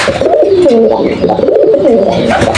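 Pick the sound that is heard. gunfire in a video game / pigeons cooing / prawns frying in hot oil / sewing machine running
pigeons cooing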